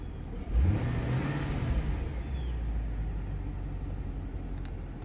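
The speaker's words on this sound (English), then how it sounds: "Runs, revs exactly as it should." A 2009 Pontiac G8 GT engine revs up sharply once, then settles back into a low, steady idle rumble, heard close up without talking.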